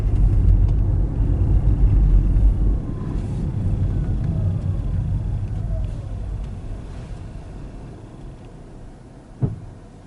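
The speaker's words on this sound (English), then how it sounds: "It's our traffic jam for today." Cars idling and creeping in a traffic jam on a road trip from Interlachen to Edgar, Florida, giving a steady low rumble of engines that is louder at first and slowly fades, with a brief thump near the end.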